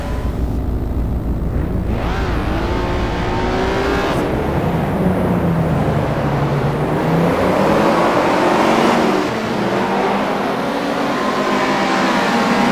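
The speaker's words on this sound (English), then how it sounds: "as the cars head away on their warm-up lap before the start of this 20-lap journey" Late-1980s British Touring Car Championship cars, including a Class B BMW, pull away on the warm-up lap at Brands Hatch, a loud continuous roar of several racing engines rising and falling as they move off, with no voices over it.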